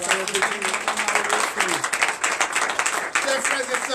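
Church congregation applauding during a Sunday worship service, lively dense clapping with voices calling out and talking over it throughout.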